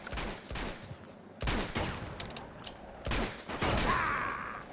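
Rapid bursts of gunfire in the Uncharted 2 jungle mission, several loud volleys separated by short gaps, with mechanical clicks and a rising whoosh near the end.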